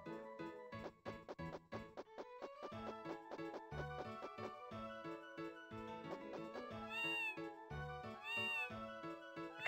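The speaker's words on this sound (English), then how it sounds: "Okay, so dragon sounds like a cat." A dragon character in a video game played on an arcade Vewlix cabinet gives repeated cat-like meows, a rapid series of short calls followed by longer drawn-out mewing cries, clear and close over faint game music.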